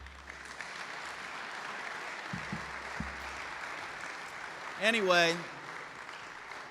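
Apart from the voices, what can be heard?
audience applause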